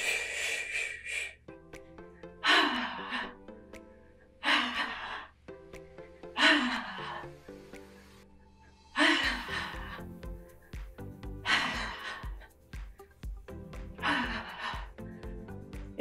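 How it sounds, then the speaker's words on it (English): Repeated forceful exhalations out through the mouth during a stress-relief exercise routine, about six breaths spaced every two to three seconds, close and clear over soft background music. "make sure you're breathing out through your mouth."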